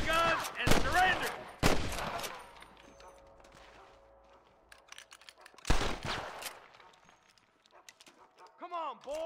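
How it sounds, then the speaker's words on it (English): Gunfire in Red Dead Redemption, several sharp shots in separate bursts, mixed with talk, horse hoofbeats and other game sounds. "I can hear more gunshots"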